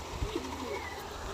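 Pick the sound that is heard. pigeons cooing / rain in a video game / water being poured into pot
pigeons cooing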